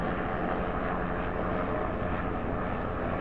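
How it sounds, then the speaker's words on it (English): A sheriff's department helicopter circles overhead, its steady rotor and engine drone filling the air continuously at moderate loudness with no other sounds. "this same helicopter, sheriff's department helicopter, is flying around again"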